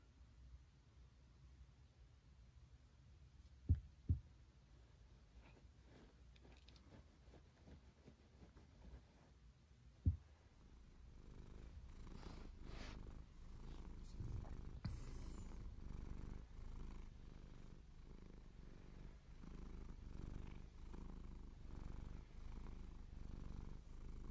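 A cat purring quietly and steadily up close, a low soft rumble with a few sharp taps early on, growing slightly fuller in the second half.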